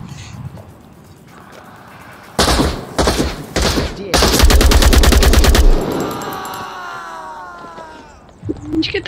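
Gunfire in the virtual reality shooter Onward, with bursts of rapid automatic shots and a sustained loud volley in the middle, while players talk between the shots.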